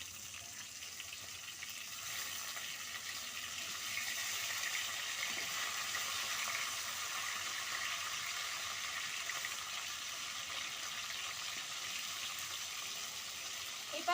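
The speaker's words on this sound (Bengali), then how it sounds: "এই পাশটা আমি একইভাবে ভেজে নেব।" Rohu fish frying in hot oil in a pan after being flipped to its second side, a steady soft hiss and crackle continuing evenly throughout with no talking.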